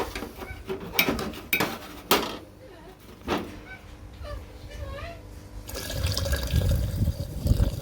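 Clinks and knocks of containers come first in a home gold-recovery setup, then a steady pour of sodium metabisulfite (SMB) dissolved in water into a sulfuric acid stripping cell, a close, continuous liquid splashing in the final seconds.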